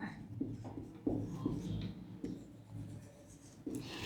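Chalk or marker strokes on a board during a Sanskrit grammar lesson, a series of short scratchy taps and scrapes at close range with no talk over them.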